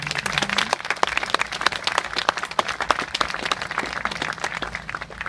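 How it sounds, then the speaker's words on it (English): A crowd claps in a round of applause at an outdoor statue dedication ceremony, dense overlapping hand claps going on steadily for several seconds. "Let's recognize them with a round of applause."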